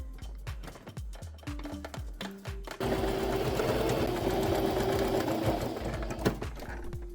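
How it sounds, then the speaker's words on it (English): A sewing machine stitching closed the opening of a fabric pillow, starting with a few short bursts of stitches and then running steadily and continuously, close and distinct. "I sew up the opening."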